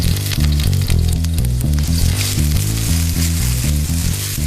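Ginger, garlic and chilies sizzle in a hot wok oiled with groundnut or vegetable oil, giving a steady bright frying hiss beneath loud, rhythmic background music.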